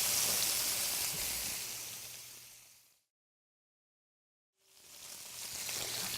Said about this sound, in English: and of course our yellow capsicum, and we're going to fry them.